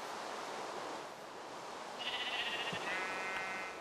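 Sheep in Minecraft bleat twice in quick succession, the wavering calls standing out over a steady hiss of background game ambience.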